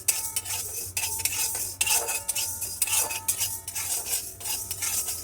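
Fenugreek seeds dry-roasting in a pan crackle and rasp as a utensil scrapes and stirs them in repeated strokes, fairly loud and close, without speech.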